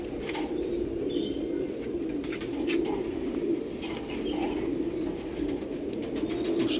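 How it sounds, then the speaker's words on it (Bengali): A pair of young red Tenali bloodline pigeons coo softly and steadily against a constant low background hum, with faint scattered chirps above. "আর দেখুন পায়রা দুটো"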